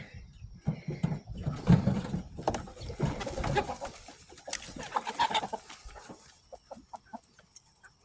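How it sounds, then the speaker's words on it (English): Chickens cluck and murmur nearby in a steady, irregular chatter, with soft rustling and a few sharper calls over a quiet outdoor background. "Now we can watch the chickens."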